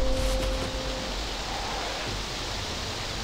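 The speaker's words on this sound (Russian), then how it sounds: "Ветер." Wind blows steadily through the video game DayZ at night, a broad, even rushing noise that carries on without pause after a brief tonal hum at the start.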